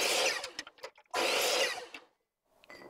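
A wood router mills a round wooden rod in two loud, harsh bursts of high-pitched cutting whine separated by a short pause, then quiet before a fainter whirring resumes.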